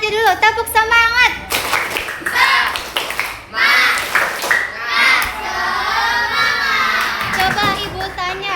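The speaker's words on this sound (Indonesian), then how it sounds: "Ibu cek semangatnya dulu, tepuk semangat." A classroom of schoolchildren claps and shouts together in a rhythmic spirit clap, loud and close, with bursts of unison clapping mixed with children's chanting voices and a teacher's voice.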